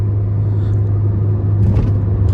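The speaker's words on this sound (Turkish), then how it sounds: "3000 devirle gidiyor araba şu anda" Engine of a manual-transmission car cruising at about 3000 rpm in traffic, a steady low droning hum with constant rumble heard from inside the cabin, no talk over it.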